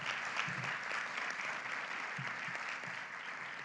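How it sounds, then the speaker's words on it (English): An audience at a Health PEI annual general meeting applauds steadily, a dense, even wash of clapping that carries on through the whole stretch at moderate volume, with a few faint voices underneath. "please join me in a round of applause"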